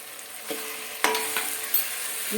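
Chili prawns with chopped tomato, slit green chilies and chili powder are stirred in a sizzling pan, with several sharp spatula scrapes against a steady frying hiss and no talking.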